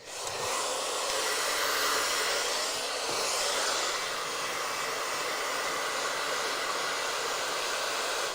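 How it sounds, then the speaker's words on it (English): Blow dryer running steadily while styling a swirl and cowlick in a barbershop haircut session, a constant close airy whoosh with no breaks and no talk. "kind of working that swirl with the blow dryer like this"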